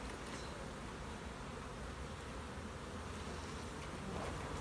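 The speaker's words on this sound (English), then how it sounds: "That's a good number of bees right there." Honey bees hum faintly around an open hive during a beekeeping inspection, a soft continuous drone blended with airy outdoor noise and no talk.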